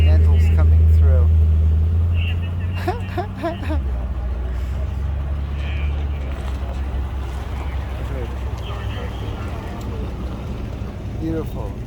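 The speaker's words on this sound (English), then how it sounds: "I want to capture these two Continentals coming through." Two flathead V12 Lincoln Continentals drive into the 2022 AACA Fall Meet car show, a loud, close low engine rumble that eases after a few seconds and settles into a steady drone, with people talking nearby.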